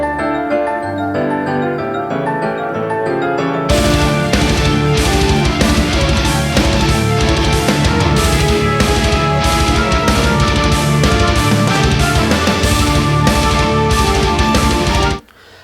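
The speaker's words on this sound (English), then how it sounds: "So it has this little piano bell sound intro." A song from a debut EP opens with soft, chiming piano-bell tones, then a loud full arrangement crashes in after a few seconds and drives on steadily in 7/4 time before cutting off.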